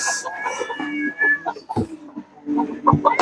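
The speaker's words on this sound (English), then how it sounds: "Meowing your face off." A cat meows repeatedly and insistently at close range in a backyard setting with chickens, the calls mixed with some clucking.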